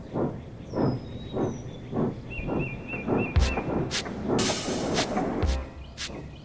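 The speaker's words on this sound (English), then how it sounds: "Two engines puffed slowly up the hill, but soon James was pulling slower and slowe" Steady rhythmic puffing of two steam engines pulling a train up a hill, regular chuffs with a hiss of steam and a couple of sharp whistle-like tones, fairly close.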